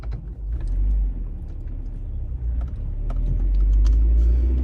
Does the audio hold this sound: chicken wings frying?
no